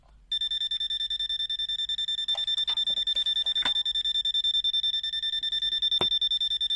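Pen-type multimeter, a BSIDE ADM92, sounding its NCV test alarm: a loud, rapid, continuous electronic beeping that starts abruptly and keeps pulsing steadily close up, with a few faint handling clicks.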